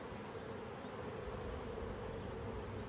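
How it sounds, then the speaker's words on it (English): A swarm of bees buzzes steadily inside a bucket during swarm catching, a continuous, even drone that stays close and alone for the whole stretch with no talk. "Oh, we still have some bees down in the bucket"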